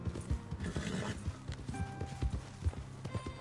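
Hooves clip-clop in an uneven, steady rhythm from a horse in Red Dead Redemption 2, with a faint whinny partway through, all fairly quiet and close.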